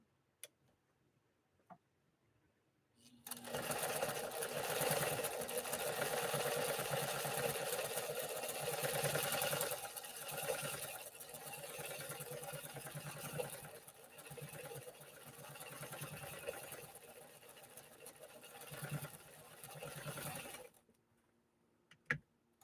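A 1960 Pfaff 230 domestic sewing machine stitching at speed, a dense, close mechanical whir and rapid ticking that runs for about seventeen seconds after a few faint clicks, then stops, no talk.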